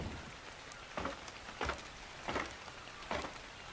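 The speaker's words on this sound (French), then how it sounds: "Ah bah bien, il se met à pleuvoir." Rain starting to fall in the video game ARK, a steady hiss of drops with several brief louder gusts at regular intervals, fairly quiet and with no voices.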